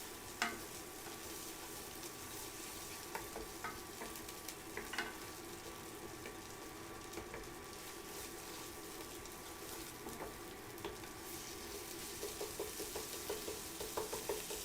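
Pad Prik King sizzling in a pan as it is stirred, a steady faint fry with small scraping ticks and pops scattered throughout, no voices.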